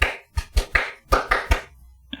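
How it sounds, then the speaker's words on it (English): Crisp hand claps in a music track, sharp bright hits in a loose rhythmic pattern, roughly eight claps over two seconds, up front and clear with little else beneath them. "Man, you gotta love the hand claps."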